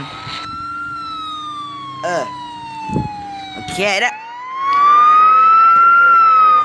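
A wailing police car siren in the video game Bathtub Universe, loud and close, with a long falling tone that rises again. Someone talks briefly in the middle, and other bursts of sound overlap.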